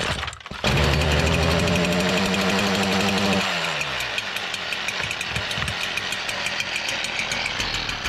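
Gas engine being started in 27-degree cold: a loud close cranking rumble whose pitch climbs and then drops after about three seconds, followed by uneven knocking and sputtering running.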